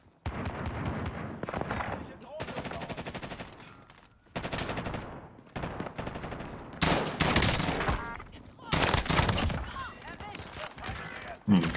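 Heavy automatic gunfire in Call of Duty Warzone on Rebirth Island, loud rattling bursts with a few pauses, while players talk excitedly over the shooting.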